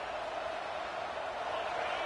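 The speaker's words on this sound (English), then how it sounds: "This crowd bringing the energy and noise early." A stadium crowd in a college football video game, Michigan against Clemson, roars as a steady, dense wash of noise, moderately loud and unbroken throughout, with a commentator talking over it.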